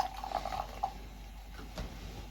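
Egyptian cola pours into a glass with faint gurgling and fizzing, quiet and close, with a small clink partway through.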